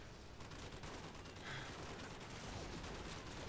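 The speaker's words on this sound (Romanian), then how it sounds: "Așa, bun, dăm cu AM249." An M249 machine gun fires in Call of Duty 4: Modern Warfare, rapid overlapping bursts of gunfire packed into a dense, loud, continuous volley with no speech.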